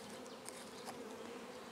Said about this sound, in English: So now that we've got our 300 bees in the jar,